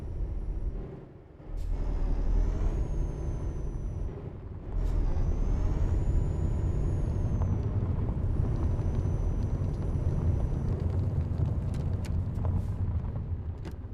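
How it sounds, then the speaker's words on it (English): A truck in Euro Truck Simulator 2 rumbles with a steady engine drone as its handbrake brings it to a stop, a hiss of air rising over the continuous low noise. "the handbrake actually works pretty nicely for stopping"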